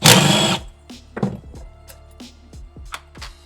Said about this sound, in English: Next step is we have to take these 10mm bolts off.